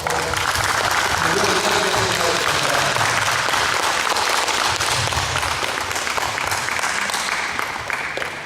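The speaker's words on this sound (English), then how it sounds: "So how about a round of applause for us?" Sustained audience applause fills a veteran rally, steady and loud from start to finish, with voices mixed into the crowd noise.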